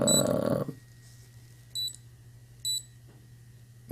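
A cheap smartwatch's stopwatch gives two short electronic beeps about a second apart, close and clear against a quiet background with a faint steady hum.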